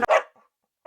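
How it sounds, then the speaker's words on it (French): A dog barks sharply at close range, one bright bark at the start and another cut off at the end, with a short yip between and near silence in the gap. "elle commence à japper."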